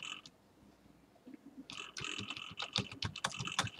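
Quiet clicking of keys on a computer keyboard, sparse at first and then a steady, close run of quick taps, heard alone without speech.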